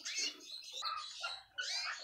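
Pet parrot chirping in a stream of bright, rapid tweets and warbles, close and fairly loud, with a brief pause near the end before another burst.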